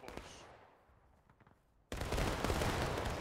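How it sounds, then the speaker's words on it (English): A musket volley bursts out in the Civil War game War of Rights, a sudden loud wall of massed gunfire cutting in after a quieter stretch of fading echoes and scattered shots. "That was a hell of a good volley."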